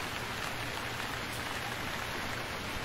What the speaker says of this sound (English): the rain is stopping